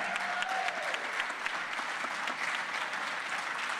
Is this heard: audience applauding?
yes